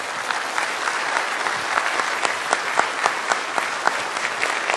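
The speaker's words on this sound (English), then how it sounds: "Okay, time to clap." Audience applause follows a California State Assembly District 1 candidate debate: sustained, even clapping with many individual claps audible, moderately distant and fairly soft, with no talking over it.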